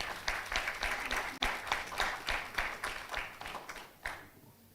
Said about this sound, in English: Ladies and gentlemen, a round of applause once again for Flora Mutahi.